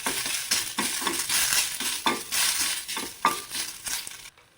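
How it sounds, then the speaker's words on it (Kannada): Ingredients for a bottle gourd peel chutney fry in a spoonful of oil in a pan, a steady loud sizzle broken by scraping stirs and clinks of the spoon against the metal, close by, then a sudden stop. "ಈಗ ಇದು ಫ್ರೈ ಮಾಡ್ಕೊಬೇಕು"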